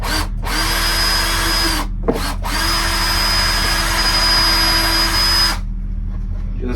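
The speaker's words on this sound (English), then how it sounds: "I'm just going to use like a normal drill bit just to slightly sink these." A power drill countersinks screw holes in a wooden workbench, two close, loud bursts of steady high whine, a short one and then a longer one, separated by a brief pause, before the motor cuts out.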